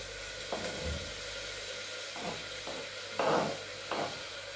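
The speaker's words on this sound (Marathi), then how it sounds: "सो आता मस्त टोमॅटो टाकतोय." Tomatoes go into a pan of frying onions, with a steady sizzle and several soft stirring scrapes and bursts of hiss, heard close with no voices.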